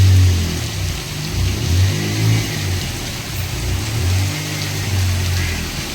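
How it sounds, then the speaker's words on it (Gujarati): Rain falls in a village during the monsoon season, a constant broad hiss of drops, with a low rumbling drone like a passing vehicle swelling and fading beneath it. "વરસાદ પડી રહ્યો છે"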